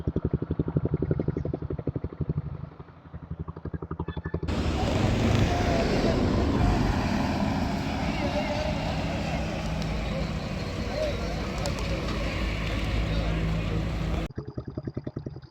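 A Royal Enfield Bullet motorcycle fitted with a diesel engine runs loud and close on a highway ride, its heavy thumping exhaust and road rumble filling a long stretch, with someone talking before and after.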